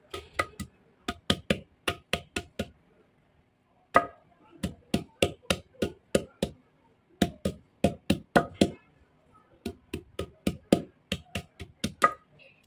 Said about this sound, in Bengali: আমি মশলা বাটতেছি